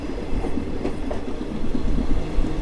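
A special train from Cherlapalli to Tirupati departs Venkatagiri station and gathers speed on the main line. Steady rhythmic clickety-clack of wheels runs under a constant rolling rumble, heard from on board with no talking.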